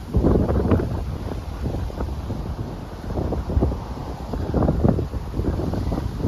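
Strong wind in Brooklyn buffeting the microphone, loud gusty rumbling that swells and eases in uneven bursts throughout, with no voices.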